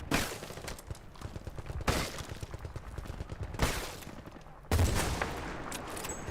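A .50 cal machine gun fires in Battlefield Bad Company 2, sharp repeated bursts with strong onsets at intervals over a steady battle din, fairly quiet overall.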